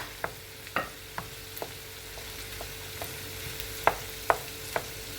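Potatoes sizzle steadily in a pan with onion and spices while a utensil scrapes and taps against it at irregular intervals, close by.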